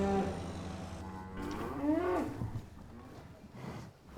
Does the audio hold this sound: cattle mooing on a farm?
yes